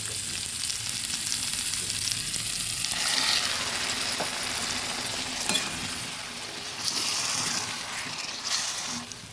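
Water is stirred into a fish-head murighonto curry made with katla fish head in a pan, giving a continuous loud sizzling, bubbling sound with scraping strokes of the spoon throughout.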